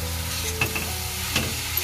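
Coconut filling for ukadiche modak sautéing and being stirred in a pan, with a steady sizzle and a couple of soft scraping strokes, close and alone.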